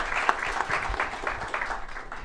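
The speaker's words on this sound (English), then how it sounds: "request all of you to carry a round of applause" A seminar audience at a transfer pricing study course gives a brief round of applause, fairly faint and distant, with scattered claps over a couple of seconds.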